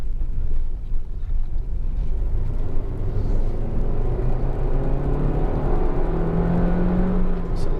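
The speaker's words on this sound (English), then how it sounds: "Lovely, lovely engine, it really is. Just revs so easily." A Honda Civic 1.4 i-VTEC engine hums steadily and then rises in pitch as it revs, with a continuous low rumble throughout and no talking.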